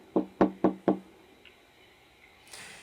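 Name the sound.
knocking on a door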